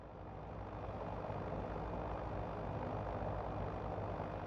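Steady low drone of a Hiller UH-12B helicopter engine in Microsoft Flight Simulator, a continuous broadband rumble with no distinct beats and no talking.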